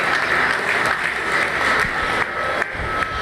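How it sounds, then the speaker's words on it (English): A crowd applauds at a meat goat show, with brisk, even clapping that holds loud and steady and then thins slightly toward the end. "Let's give these guys a round of applause."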